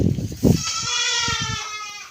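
Goats on a farm beside a field house call out, a single drawn-out wavering bleat rising clearly after a couple of low thumps and rustles, fairly close and loud.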